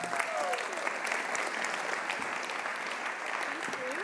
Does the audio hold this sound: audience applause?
yes